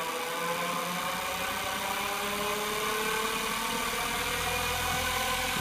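An electric motor spinning up a one-piece unipolar magnet generator, a loud continuous whirring hum with a steady rising pitch, close by and with no talking.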